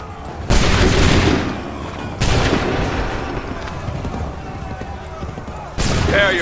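Musket volleys roar in a battle in Assassin's Creed III, three loud booming bursts of massed gunfire, each fading into a lingering rumble before the next crash.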